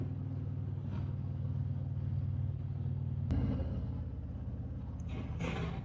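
Motorcycle riding along hilly country roads south of Eau Claire, its engine a steady, loud low rumble throughout, with a brief sharp jolt partway and a slight rise in wind and engine noise near the end.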